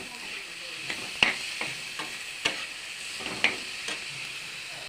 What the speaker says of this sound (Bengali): দেখো আমি ভাজা ভাজা করে নিয়েছি